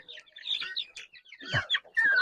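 Hens and young chicks clucking and cheeping as they are fed, a busy close-up flock with broken bursts of clucks and high peeps, louder toward the end.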